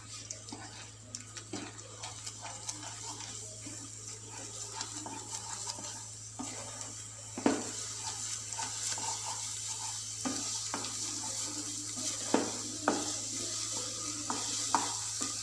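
Egg bhurji is being stirred and fried in a pan, a steady close sizzle with repeated scraping and clinking strokes of the spoon against the pan throughout, with no voices.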